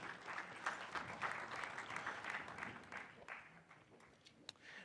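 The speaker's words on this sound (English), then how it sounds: "Round of applause one more time" Applause from a crowd, steady clapping rising and falling, fairly faint and distant, tapering toward the end.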